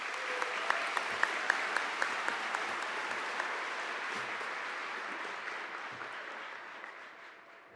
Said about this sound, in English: One more round of applause for these grads.